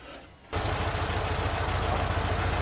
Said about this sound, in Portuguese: Uma autolinha é montada pelo motor de Volkswagen